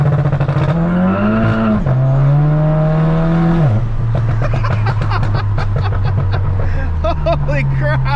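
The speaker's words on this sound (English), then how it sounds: "you just go full throttle, let the turbo start spooling up" Big-turbo Volkswagen GTI at full throttle with rolling anti-lag, the engine droning and rising steadily in pitch, dipping between pulls, with crackling pops building toward the end, loud and close throughout.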